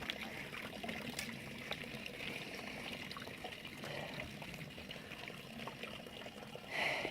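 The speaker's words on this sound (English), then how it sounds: "now I'm just using gravity to fill up my clean water" Outdoors on a backpacking trip, clean water trickles down through a hanging gravity water filter into a container, a faint, steady dribble with light splashes close by and a slight swell near the end.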